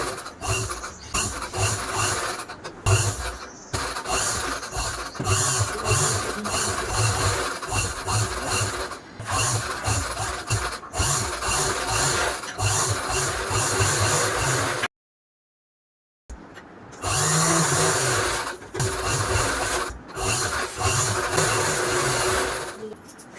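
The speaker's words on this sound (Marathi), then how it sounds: "जॉईन करून घेणार आहे ओस्तर आणि कॅनव्हस मी जोडून घेत आहे" A sewing machine joins lining and canvas fabric, running in a busy, continuous mechanical rattle with short stops and one brief silent pause before it resumes.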